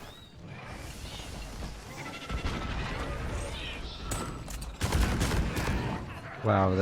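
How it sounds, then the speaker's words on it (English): A grenade exploding in the Deep Rock Galactic video game, a sudden loud blast bursting out of ongoing gunfire and combat noise, followed by another heavy burst moments later. "that grenade decimated us"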